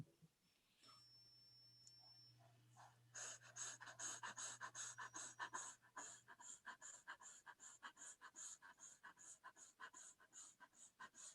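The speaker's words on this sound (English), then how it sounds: "breathe fast through from the chest level only, again through the mouth. Imagine a rabbit, how it will be breathing" A person pants rapidly through the mouth in a breathing exercise, producing a long run of quick, evenly spaced short breaths, close and fairly loud, with a faint tone in the background early on.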